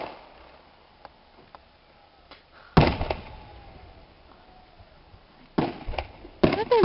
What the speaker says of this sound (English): I'm videotaping the fireworks